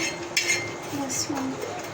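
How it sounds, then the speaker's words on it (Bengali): Kasuri methi frying in a pan while a metal spoon scrapes and clinks against it, a few sharp close taps and scrapes over a soft sizzle, with a voice talking. "ওই যে কসুরি মেথি ভেজে নিচ্ছে একটু"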